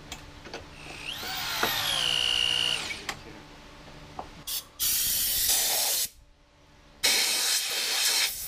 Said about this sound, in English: Once dry, we could start drilling in the holes for the hanger bolts.